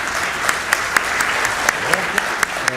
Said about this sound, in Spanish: Por favor, los recibimos con un fuerte aplauso.